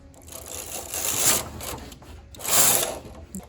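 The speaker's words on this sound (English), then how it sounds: "I like to push all of my needles forward, and I'm going to go ahead and knit across." A knitting machine carriage slides across the needle bed in two long, close passes, each a swelling mechanical whir that rises and fades, ending with a brief click.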